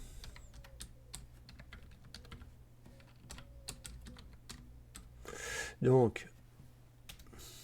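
Steady typing on a computer keyboard, a run of quick light clicks throughout, with someone speaking French over it and a short burst of louder noise near the end.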